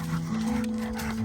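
A dog breathes hard and heavily after climbing a hill in a park, giving a steady rough pant close to the microphone, with a low hum underneath.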